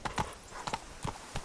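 Horse hooves clip-clop in a steady, moderately close gait in The Witcher 3, with about five soft, evenly spaced thuds over a quiet background.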